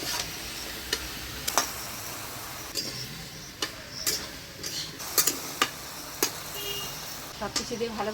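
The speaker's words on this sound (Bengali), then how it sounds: "সব কিছু দিয়ে ভালো করে নাড়াচাড়া করে নিলাম" Kalai dal with fresh vegetables, ash gourd, turmeric, salt, green chili and a little sugar being stirred in a pot: sharp, irregular spoon clicks and knocks against the pot, a dozen or so over a soft, low background.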